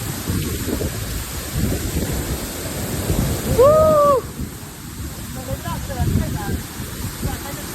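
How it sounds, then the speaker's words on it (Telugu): Waterfall swollen by monsoon rain: a loud, steady broadband rush of falling water, close and unbroken, with a brief tonal call or whistle cutting through near the middle. "మొత్తానికి వాటర్ ఫాల్ అయితే వచ్చాము. నెక్స్ట్ లెవెల్ వాటర్ ఫాల్ మాత్రం మామూలుగా లేదు."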